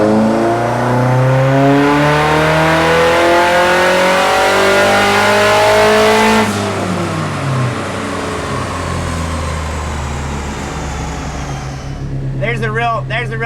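A turbocharged SR20 engine in an old Datsun 510 revs hard through a dyno pull, its loud harmonic wail climbing steadily before the throttle lifts and it drops to a lower drone, with a voice near the end.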